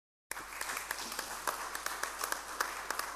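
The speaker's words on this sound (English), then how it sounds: "Give a round of applause." A room audience gives a round of applause, heard as fairly quiet, continuous clapping with scattered sharper hand claps standing out over the steady patter.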